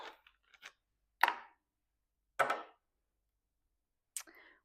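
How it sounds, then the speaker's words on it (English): Two garlic cloves are crushed in a hand crusher and scraped off its edge, heard as a few separate crunching presses and scrapes close by, with silent gaps between them. "I'm going to add 2 cloves of garlic and I'm going to crush those in and just scrape off the edge there"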